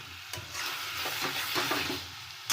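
Goat meat sautés in hot oil with a dense, close sizzle that swells and fades as it is stirred, with a sharp utensil knock at the start and another at the end; no talking.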